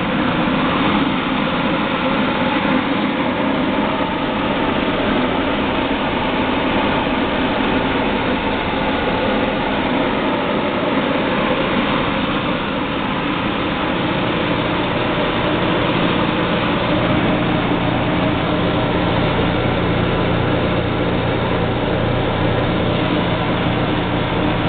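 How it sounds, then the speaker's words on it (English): A Peerless 9-inch centrifugal blower driven by a quarter-horsepower Valdor motor runs at a constant whirring drone, steady and fairly close throughout with no talking. "I'm going to power it up to show you that it does run."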